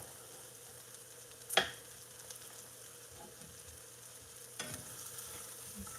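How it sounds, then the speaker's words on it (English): Food being stirred in a pan over low heat for pitas, with a soft sizzle and a couple of scraping spoon strokes, one sharp and close near the start. "Let's do some stirring around."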